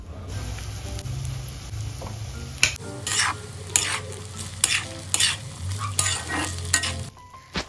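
Leftover cold rice is stir-fried in a pan with a spatula, giving a steady hiss of frying under a low hum, broken by repeated sharp scrapes and clatters against the pan, close up with no talk.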